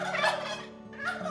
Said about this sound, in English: And turkeys can do more than just gobble.